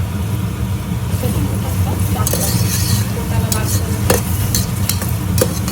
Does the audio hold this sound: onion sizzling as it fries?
yes